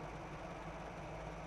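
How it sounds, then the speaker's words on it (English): 1981 Toyota Land Cruiser FJ45 pickup engine idling, a low, even, steady rumble heard quietly and continuously with no voices over it. "Now that we're not rushed, we are idling nice, engine sounds good."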